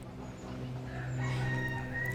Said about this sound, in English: Peacocks and cockerels roam freely around the zoo.